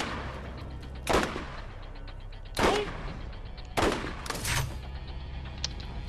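A turret in Borderlands fires in sharp, loud bursts, four distinct volleys spaced about a second or more apart. Each burst cracks out over a low steady hum, and no voices sound between the shots.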